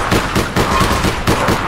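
Rapid bursts of automatic gunfire in a 3v3 container-map match of PUBG, loud and close, firing in quick repeated volleys with no pauses for talk.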